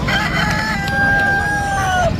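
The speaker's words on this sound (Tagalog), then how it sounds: "May mga manok din dito, oh." A rooster crows once, a long drawn-out call over a busy background of other chickens clucking at a market selling animals.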